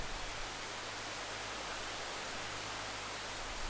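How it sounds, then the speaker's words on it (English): Tufa waterfall in a cove at Blyde Canyon, a steady broadband rush of falling water, constant and even, with no voices. "is a beautiful cove with a Tufa Waterfall"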